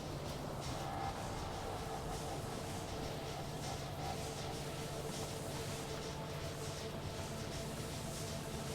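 A train rolls along in the Factorio video game, giving a steady, continuous rumble and rail clatter that stays even and fairly loud from start to finish with no voices.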